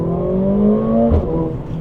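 A 2024 Mercedes-AMG CLA 45 S four-cylinder engine pulls hard in race mode, a steady rising drone with an abrupt low thump partway through, sounding close and loud from inside the cabin.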